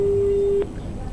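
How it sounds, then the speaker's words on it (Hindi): A steady single-pitch telephone tone on a call-in TV programme line after the caller disconnects. It rings alone for about half a second, then cuts off abruptly into quiet room hum. "दीपक से हमारा संपर्क शायद टूट चुका है"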